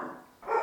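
A neighbor's dog next door barks twice in quick succession. The barks are fairly loud and clear, and no one speaks.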